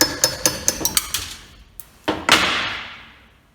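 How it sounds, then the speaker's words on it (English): A hammer drives a punch against a small pin on a vintage KitchenAid stand mixer, a series of about eight quick, sharp metallic taps followed by two heavier knocks that ring out and fade, close up with no talking. "There's a small pin here that we need to remove, so I'm just going to hit that with a hammer and a punch."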